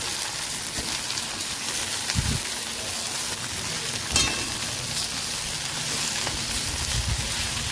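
Amaranth greens with onions fry in a pan with a continuous crackling sizzle, broken by a few brief stirring clatters.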